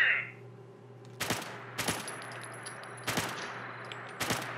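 Four sharp gunshots ring out at roughly even intervals, fired at targets during basic training in a Fallout game, each a loud crack over a steady low hum of ambient noise.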